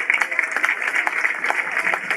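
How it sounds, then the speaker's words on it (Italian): Audience applause at the 19th International Folklore Festival in Ortezzano, a lively, moderately loud patter of clapping in a reverberant space, with some talk mixed in. "un applauso a Teresa"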